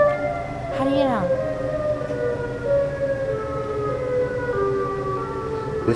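A Siren Head siren noise wails as a steady, eerie droning tone with layered pitches, broken early by a short falling swoop, moderately loud and continuous throughout.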